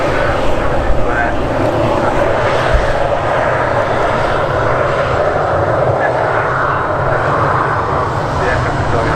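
A fixed-wing airliner at Manchester Airport, a British Airways service bound for New York, rumbles as a loud, continuous broadband engine roar close by, steady throughout with faint voices mixed beneath it.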